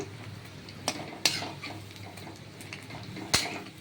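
Onion pakoras fry in a pan and are turned over, a low steady sizzle broken by a few sharp scrapes and clinks of a utensil against the pan.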